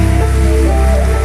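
Loud, steady rain falls during an outdoor worship gathering, a dense continuous patter close to the microphone with a low hum underneath and no speech.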